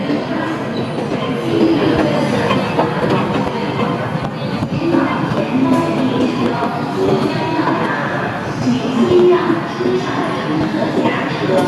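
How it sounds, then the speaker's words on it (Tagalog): A train pulling into a station, a steady loud rumble of wheels and rail noise filling the whole stretch, with people talking underneath. "The train to Chunwan is arriving."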